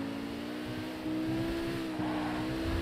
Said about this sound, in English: It's got a very aggressive noise to it for an electric car